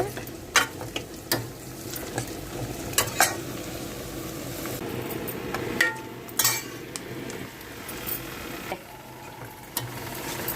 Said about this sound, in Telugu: ఉల్లిపాయలు కూడా వేసేసుకుందాము ఏగిపోవాలి ఉల్లిపాయలు బాగా ఏగిపోవాలండి